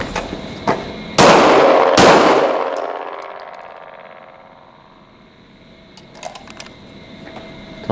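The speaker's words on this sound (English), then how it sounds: "advance 5 meters to the 15 meter line, drawing on the way, arriving ready to shoot, and firing 2 rounds" Two sharp, loud pistol shots about a second apart on an outdoor shooting range, each ringing out into a long decaying echo, followed by faint clicks and small metallic handling noises.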